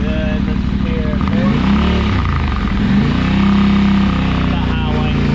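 A 2023 Yamaha Tenere 700 fitted with a Huzar exhaust revs up close by. Its throbbing engine note swells and falls in several blips and then holds a higher steady tone before easing back.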